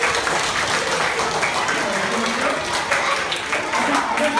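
A classroom of young schoolchildren, around fourth grade, clapping together in a dense, steady round of applause that carries on evenly throughout, loud and close.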